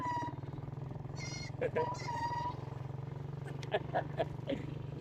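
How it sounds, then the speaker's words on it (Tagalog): Young goats bleat a few times in short wavering cries over a steady engine rumble, with people talking nearby. "Ang daming anak ng kambing."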